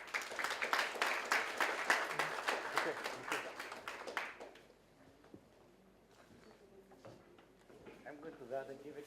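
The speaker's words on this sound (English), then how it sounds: "Kindly give them a round of applause, please." An audience gives a round of applause at a scholarship award ceremony. The dense clapping lasts about four seconds, then fades and gives way to quiet room sounds and scattered voices.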